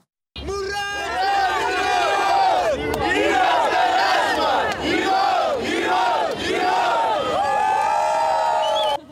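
A large crowd of North Ossetian fans cheers for their boxer, a countryman, in Vladikavkaz. Loud, sustained shouting and chanting voices fill the air, with whoops rising and falling.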